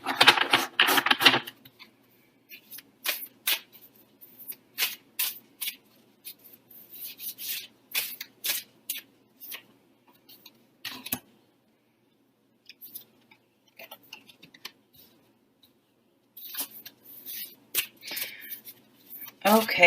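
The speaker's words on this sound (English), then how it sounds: "I'm going to shuffle. This can be loud," Tarot cards are shuffled up close, giving repeated crisp riffling and slapping bursts in uneven clusters with short quiet gaps, loud and dry.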